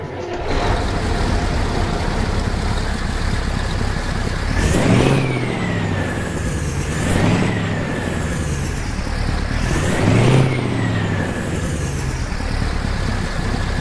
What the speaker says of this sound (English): let's fire up this new Mack E9 engine mod that we have. See what it sounds like